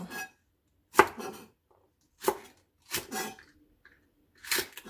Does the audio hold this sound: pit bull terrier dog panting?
no